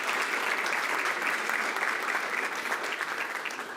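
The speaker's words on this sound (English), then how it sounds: "How about a big congratulations and round of applause." Applause at a school board meeting for a cross-country district champion: a full, even wash of clapping from the room that holds steady and tapers only slightly toward the end.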